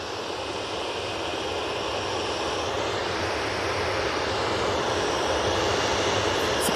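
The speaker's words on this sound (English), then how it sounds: "Ryanair 737-800 now lined up, ready to go" Ryanair Boeing 737-800 lined up for departure at Manchester Airport, its jet engines giving a loud, continuous broadband roar with a hissy upper edge that builds gradually and holds steady, with no voices.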